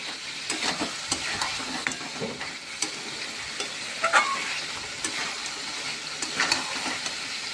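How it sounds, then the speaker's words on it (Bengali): Goat meat is stirred and fried in a pan, giving a steady sizzle with a run of quick scraping and clinking strokes from a spoon, close and fairly loud, with no talking. "ভালো করে নাড়াচাড়া করে একটুখানি কষে নিতে হবে"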